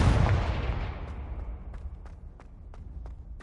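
A Confringo blast spell cast in a Harry Potter video game: a loud booming burst that decays over the first second, followed by a series of faint, evenly spaced sharp ticks in the background.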